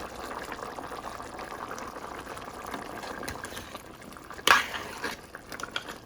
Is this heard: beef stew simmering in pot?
yes